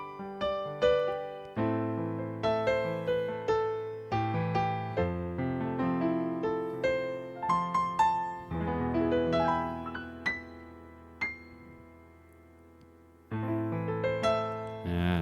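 Piano notes from a Yamaha PSR-E473 electronic keyboard play a gentle melody with chords, each note decaying smoothly, pausing briefly near the end before resuming.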